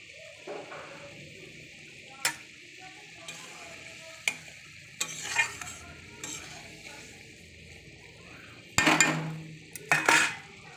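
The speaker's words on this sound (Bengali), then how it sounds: "দেখো আমার ঝোল ফুটে গেছে" Chandana hilsa fish curry with mustard paste and tomato bubbles in a pot, a steady sizzling simmer punctuated by spoon scrapes and clinks against the metal, close and clear with no talk.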